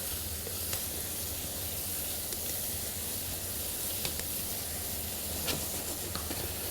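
Sweated onions and carrots cooking in a pan give a constant soft hiss and sizzle, fairly faint and even throughout, with a few small pops and no talking.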